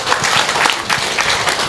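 Sustained applause from an audience at a book launch event, a dense, steady wash of many hands clapping throughout with no speech over it.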